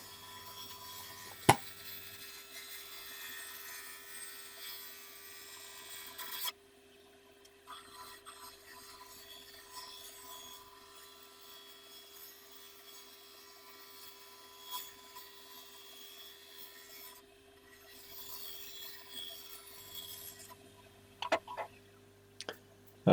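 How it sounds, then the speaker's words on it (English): A half-inch ball gouge cuts an oak box blank spinning on a lathe, giving a continuous close hissing scrape that comes and goes in long passes over a steady motor hum. "use a ball gouge, half-inch ball gouge to start shaping the outside."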